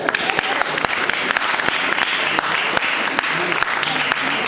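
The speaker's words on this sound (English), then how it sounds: "You may clap." An audience in a church setting applauds an award recipient honoured for his services to the church, producing dense, loud, continuous clapping throughout with a faint murmur of voices underneath.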